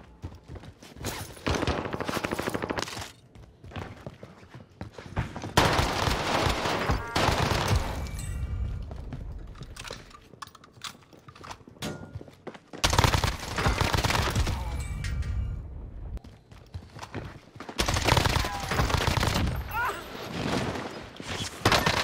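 Video game gunfire in rapid fusillades and machine-gun bursts, loud and dense, separated by short quieter gaps, with a player's voice talking over the shooting.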